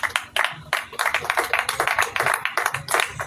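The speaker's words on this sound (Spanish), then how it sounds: "Den un aplauso al Señor." Congregation in a church clapping together in a quick, irregular run of sharp hand claps, fairly close and steady for a few seconds with no talking over it.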